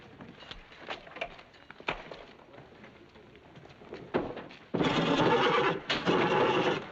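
A horse whinnies loudly and at length near the end, after several seconds of quieter shuffling and thumps.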